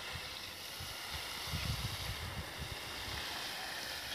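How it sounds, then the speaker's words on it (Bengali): A small Tullu water pump pushes water through a pipe onto cucumber plants, a steady rushing, gurgling hiss with a low rumble running throughout, fairly loud and constant with no talking. "বন্ধুরা, এই গাছে পাইপ কলে জল দেওয়া হচ্ছে ছোট টুলু পাম্পের সাহায্যে।"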